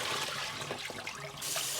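Water running steadily from a tap while homemade butter made in a blender is washed, a continuous close hiss and splash that swells near the end.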